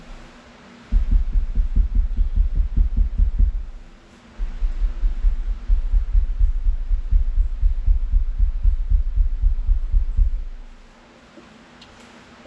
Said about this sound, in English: I'm just pounding on the back wall, and it sounds pretty good.